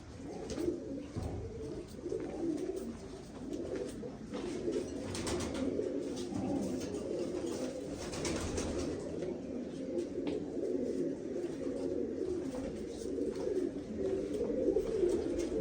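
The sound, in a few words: pigeons cooing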